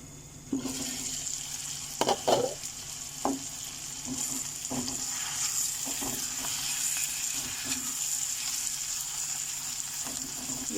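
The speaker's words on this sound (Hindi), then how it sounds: "तो अब इसे फ्राई करना है कि टमाटो हमारा अच्छे से सॉफ्ट हो जाए।" Tomatoes for chicken changezi fry in a pan with a continuous soft sizzle, broken by a few scrapes and stirring knocks.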